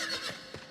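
The golden Kirin horse mount in the video game Final Fantasy XIV lets out a brief, bright neigh, a short whinny lasting under a second, heard alone.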